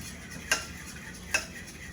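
A spoon stirs buttermilk brine seasoned with ground cumin in a pot, giving two quick metallic clinks against the rim over a soft background hiss.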